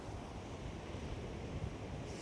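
Sea surf rolls in at high tide on the shore at Velas, a faint, steady wash of breaking water mixed with wind noise on the microphone.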